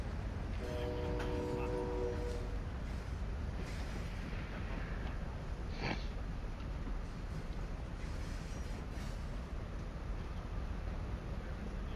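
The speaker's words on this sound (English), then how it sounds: "The train's slowing down." A train in Call of Duty: Modern Warfare II DMZ rumbles steadily and loudly throughout with a brief horn tone early on, heard up close.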